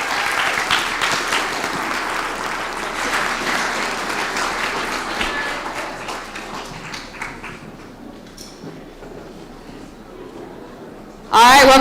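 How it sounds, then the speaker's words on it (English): An audience at a live event applauds in a long, full round of clapping that gradually thins and fades, with a voice briefly heard near the end. "I think that's something we can all applaud."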